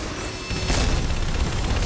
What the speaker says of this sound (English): Somebody exploded everything, Tr